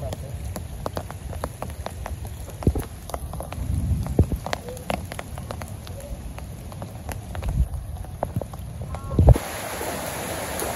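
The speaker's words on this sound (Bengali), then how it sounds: "এই যে বৃষ্টি নেমে পড়ছে" Rain falls over a village home in a steady patter on the ground and nearby surfaces, with sharp individual drops tapping close by throughout.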